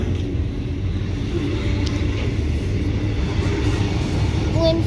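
Two trains passing at the same time, including an intermodal freight: a steady, loud, low rumble of rolling rail cars that fills the whole stretch, with faint squeals near the end.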